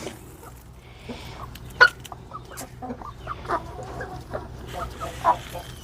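Backyard chickens, including a heavily feathered Cochin, give soft, scattered clucks and low murmurs around a coop, with one sharper squawk and a faint steady hum beneath.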